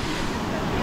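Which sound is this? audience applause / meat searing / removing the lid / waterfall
waterfall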